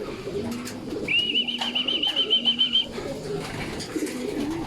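Racing pigeons coo softly at a loft as a hen arrives, low murmuring calls under a high thin whistle-like tone and light background noise.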